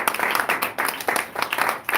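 Audience members at an Abuja conference on the future of work clap in quick bursts of several hands, rising and falling in rhythmic waves over two seconds with little talk.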